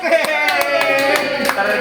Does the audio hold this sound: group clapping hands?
yes